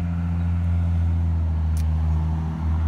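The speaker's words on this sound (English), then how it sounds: "please excuse the noisy car." A noisy car nearby runs steadily, a loud, constant low rumble and hum with no break and no speech over it.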